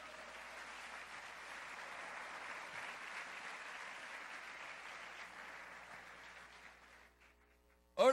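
Church congregation applauding together during a Spanish-language sermon, a steady, moderately distant wash of clapping lasting about seven seconds before fading out, followed by a brief sharp sound at the end.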